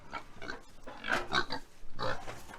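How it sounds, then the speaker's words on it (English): Pigs grunt and squeal in close, choppy bursts as they jostle and fight over feed at an off-grid homestead. "they're like fighting over the feed"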